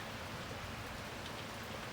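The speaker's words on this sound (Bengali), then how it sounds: "খুব সুন্দর বৃষ্টি হচ্ছে" Steady rain falls on a tiled roof in a village without a break, a soft, even patter of drops from nearby with no voices or other sounds.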